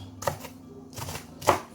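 A kitchen knife chops through a white Spanish onion on a board, three dull, separate strikes at an uneven pace, close by with no talk.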